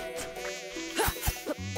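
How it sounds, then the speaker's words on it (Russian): A fly's thin, whining buzz hovers near in the game Timespinner, wavering in pitch, with a few soft thumps mixed in. "Довольно настоящая муха."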